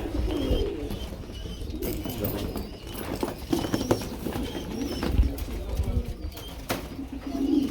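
Pigeons coo and flutter at a pigeon farm amid a busy, close mix of knocks and shuffling movement, with soft voices in the background.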